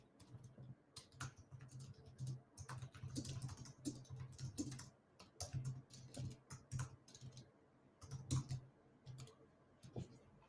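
Steady typing on a computer keyboard, quick irregular bursts of close key clicks with short pauses, fairly quiet and with no talking.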